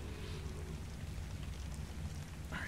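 Acid rain falls in the video game Ark: Survival Evolved, a steady, fairly quiet wash of rain noise that continues unbroken with no talk.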